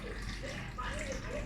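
Mineral or boiled water is poured into a cheap home fragrance diffuser machine, making a steady close splashing trickle of liquid that runs on without a break.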